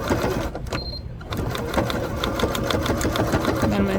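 A sewing machine stitches a backpack with a fast, steady mechanical whir of rapid needle strokes, pausing briefly before running on forward and in reverse.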